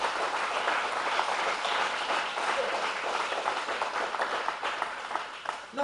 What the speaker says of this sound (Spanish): Regale un aplauso fuerte a Jesús.